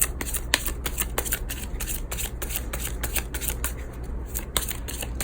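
Tarot cards are shuffled and handled close up, a rapid run of crisp riffling slaps and papery flicks repeating steadily over a low background hum, with no voice.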